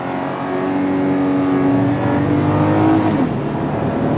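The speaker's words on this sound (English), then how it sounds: "Holds the gear for you, shifts right up to the red line" Volkswagen Atlas SUV engine revving steadily in sport mode, a loud continuous drone with its pitch climbing as it holds a gear toward redline, then dropping sharply around three seconds at the upshift before rising again.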